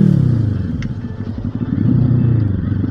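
A 2017 Kawasaki ER-6N with an SC Project exhaust rumbles loudly while riding, its engine note pulsing and briefly dipping as the rider shifts up through the gears, with wind buffeting the close microphone.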